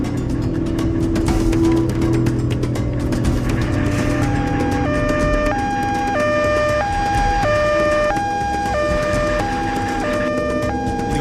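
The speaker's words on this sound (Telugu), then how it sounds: "అంబులెన్స్ కి ముందు దారి ఇవ్వయ్యా" A loud ambulance siren alternates between two tones in a steady wailing cycle, with road and traffic noise underneath.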